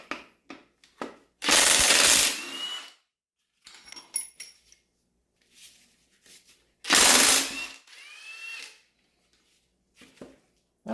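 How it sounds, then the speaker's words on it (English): A Ryobi power ratchet with a chrome socket spins on a motor's bolts during teardown, giving two loud, sustained bursts of about 1.5 seconds each. Softer clicks and small clanks of handled parts fill the gaps between them. "Just going to pull this apart as major components with the non-contractor grade Ryobi tools."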